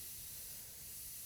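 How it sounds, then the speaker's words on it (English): Paint is sprayed lightly as a fine mist for fantasy art, a steady, soft, continuous hiss heard alone at low volume. "I will just spray it lightly"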